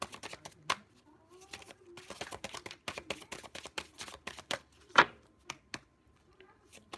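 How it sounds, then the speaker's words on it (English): A deck of cards being shuffled up close, with quick crisp riffling bursts separated by short pauses. "I don't like seeing the cards when I'm shuffling."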